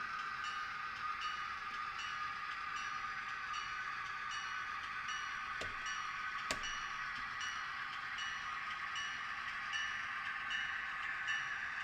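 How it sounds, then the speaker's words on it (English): A locomotive running around its train during a switching session: a faint, steady rumble and hum of rail movement with two brief sharp clicks partway through, distant-sounding and without talking. "we're going to run the loco around and pick him up on the front end of the locomotive"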